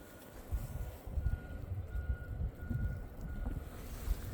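Snow plow reversing on a gravel back-country road during a spring snowstorm, its backup beeps faint and distant beneath gusty wind buffeting and a low rumble.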